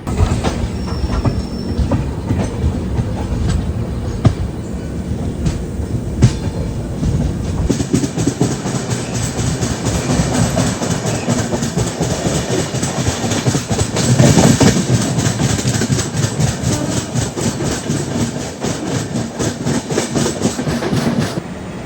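The Raptisagar Express rolls steadily along the track, rhythmic clickety-clack of wheels over rail joints growing denser and louder, with occasional squeals and rumbling.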